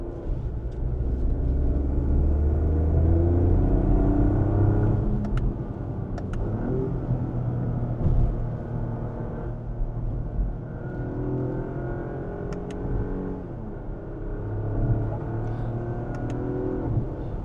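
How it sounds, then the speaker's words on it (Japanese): A Lexus LBX Morizo RR is driven toward a corner and downshifted before entering it, its engine rumbling loudly from inside the car with rising and falling revs and brief blips. "コーナーに向けて走って進入手前で落とすっていうのやってみましょうか。"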